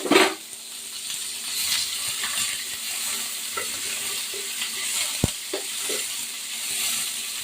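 Onions fry in oil with cardamom and bay leaf, a soft steady sizzle under repeated scraping and stirring of a utensil, with a sharp metallic clink near the end.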